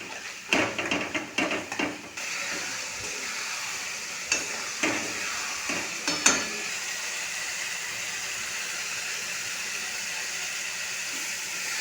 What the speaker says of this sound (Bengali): সামান্য জল দিয়ে মশলাটা কষিয়ে নেব